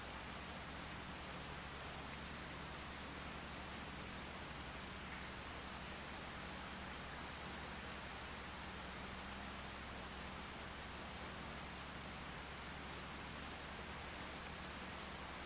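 Steady rain falls in the video game Farming Simulator 25, a dense, even hiss of drops with no breaks. It stays constant and fairly soft throughout, with no voices.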